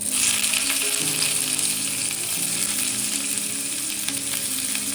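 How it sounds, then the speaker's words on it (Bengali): Steady, loud sizzling and crackling of dried chillies and spices frying in hot oil, continuous throughout with no voices. "শুকনো লঙ্কাটা এখানে একটু ভাজা ভাজা হয়ে গেছে"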